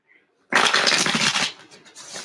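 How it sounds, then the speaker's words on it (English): A deck of tarot cards is shuffled close by in a quick riffling burst of papery flutter that fades into softer handling noise. "I'm just going to shuffle these a couple more times."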